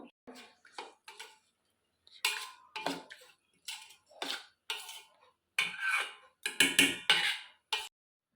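Spoon clinks and scrapes against a bowl in short bursts separated by brief silences, mixing thick appam batter.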